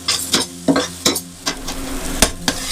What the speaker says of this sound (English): Just want to stir fry that chili paste for a little bit.